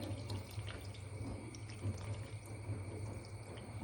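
Second coconut milk being poured into cooked tapioca makes a continuous liquid pour and gurgle, fairly close and steady, with no talking.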